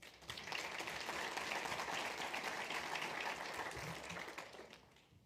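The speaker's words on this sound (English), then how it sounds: "They deserve a big round of applause." Steady applause from a crowd, a dense wash of many hands clapping that holds for several seconds and then tapers off toward the end.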